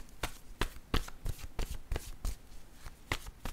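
Tarot word cards being shuffled by hand, a run of about a dozen crisp riffling bursts at a fairly even pace, close and clear with no talk over them.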